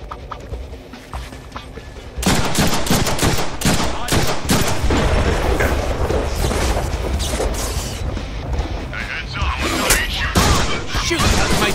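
Gunfire in the Deadpool video game, Genosha level: after a quieter start, dense rapid volleys of shots and booms crackle nonstop and loud for the rest of the stretch.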